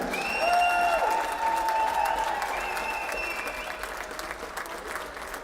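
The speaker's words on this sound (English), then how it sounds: "a collective rousing round of applause for Julia Ackerman, Haley Coleman, Brittany" Crowd applause fills a women's college basketball gym at a Trinity University versus Southwestern University game, a steady rousing round of clapping that holds for several seconds and slowly eases, with a whistle-like tone drifting over it.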